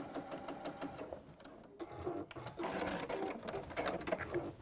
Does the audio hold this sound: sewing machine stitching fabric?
yes